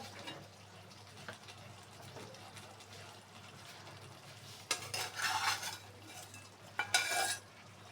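Koi fish go into a pan of cooking greens with two loud bursts of wet sizzling and splashing, each lasting about a second, over a quiet low hum and a few soft utensil clinks.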